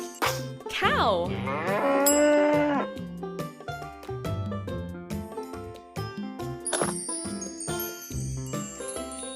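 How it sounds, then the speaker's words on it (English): A cow gives a long, loud moo that rises and falls, followed by short farmyard sounds with a light jingling tinkle. "Cow."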